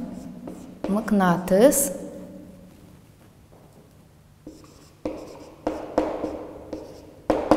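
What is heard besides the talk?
writing with a pen during a lesson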